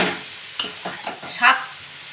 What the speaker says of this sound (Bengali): এটা আমি এখন খুব ভালো করে ভাজবো। গাজরের কালার চেঞ্জ হবে